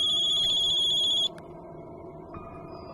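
A mobile phone ringtone trills loudly as a steady electronic tone for over a second, then cuts off, leaving a quiet room hum; a horror-house film setting.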